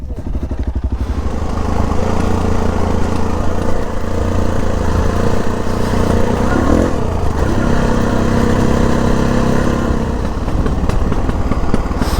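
A motorcycle engine runs loud and close, its exhaust rumbling steadily with a slight rise in revs partway through.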